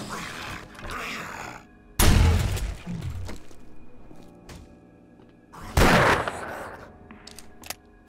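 Magnum revolver shots in the video game 7 Days To Die, two sharp loud blasts a few seconds apart with ringing tails, plus smaller impacts and clatter in between, and a voice talking faintly.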